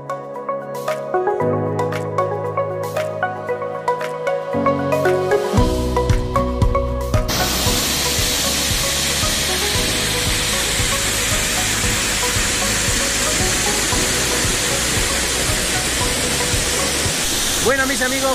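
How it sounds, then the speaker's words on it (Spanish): Cascada del Caracol waterfall in Llano del Muerto in winter, a loud, steady hiss of rushing water that comes in abruptly after a stretch of music and continues unbroken. "hemos venido a ver la Cascada del Caracol"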